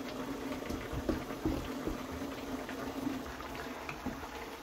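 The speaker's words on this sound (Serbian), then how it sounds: "Ovo se i tekako krčka ovdje." A meat stew simmers in a pot during village-style home cooking, bubbling and popping steadily with soft, irregular blips close by; no one speaks.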